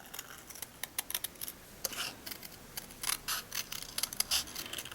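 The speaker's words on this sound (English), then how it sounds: "So now I'm going to fussy cut these out." Scissors fussy cutting stamped paper images, a quiet series of small snips and crisp paper clicks in irregular bursts, close and alone.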